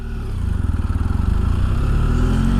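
A BMW F800 GS adventure motorcycle rides along with a loud, close engine drone and pulsing low rumble that rises slightly in pitch as it goes, with no voices.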